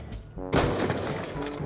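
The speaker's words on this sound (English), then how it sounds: "Stop shooting me!" Gunfire in Call of Duty Black Ops 2, a dense burst of loud rapid shots crackling continuously after a brief lead-in of game sound.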